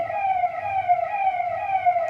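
A siren wails continuously in a steady, fairly loud rising-and-falling tone with no voices, as if an emergency vehicle is nearby.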